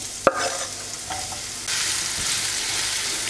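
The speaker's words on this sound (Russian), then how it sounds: "Слегка обжариваем." Onion, dried garlic and spices frying in vegetable oil in a pan, a steady close sizzle that opens with a short clatter and grows a little louder and denser partway through.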